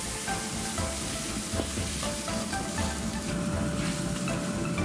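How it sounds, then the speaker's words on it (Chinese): Ginger, garlic, chili bean paste and pickled chili stir-frying in a hot wok with diced pork belly, a dense continuous sizzle and crackle, close and loud, alone without talk. "加入姜蒜、豆瓣、泡海椒一起炒香"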